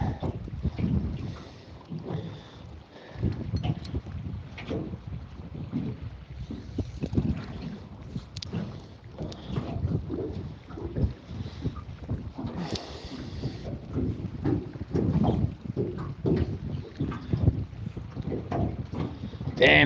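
Wind gusting over open water around a small boat, a continuous rushing buffeting against the microphone that swells and eases, with people talking intermittently beneath it.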